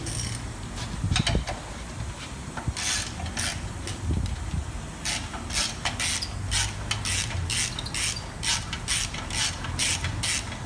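A ratchet wrench loosens bolts on an engine in a mechanic's workshop, giving rapid repeated clicking bursts over a continuous clatter of tools and background noise, close and moderately loud, with no speech.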